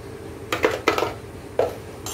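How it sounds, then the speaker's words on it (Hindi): A spoon mixes stuffed chilli (bharwan mirch) filling in a metal pan after salt is added, giving three or four sharp, close clinks and scrapes against the pan with quiet gaps between and no talk. "इसको अच्छे से मिला लीजिए"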